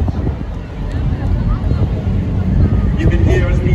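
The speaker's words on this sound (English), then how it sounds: "You can hear as the boat spins around, the sheer power behind the engines." Powerful engines of a rescue boat roar close and loud as the boat spins around at a Porthcawl rescue festival, a continuous churning rumble mixed with wind buffeting.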